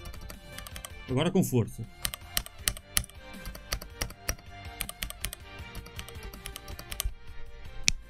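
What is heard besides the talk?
computer keyboard keys being pressed, backspace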